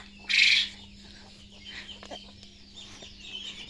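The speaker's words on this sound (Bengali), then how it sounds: "আর এই যে মুরগিগুলো দুষ্টুমি করে বেড়াচ্ছে" Chickens roam and cluck around a garden with a bitter gourd plant, opening with one sharp loud squawk, then soft scattered clucks nearby over a low steady hum.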